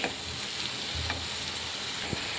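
Tomatoes with green chillies cooking down in a pan for an egg and drumstick curry, giving a soft continuous sizzle and bubbling with a few faint stirring knocks, no talking.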